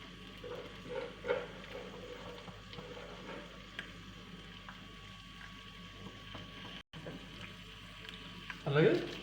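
Thinly sliced onions and washed curry leaves sizzling in hot oil for a tempering, a soft steady frying hiss with occasional stirring sounds; a voice is heard speaking over it.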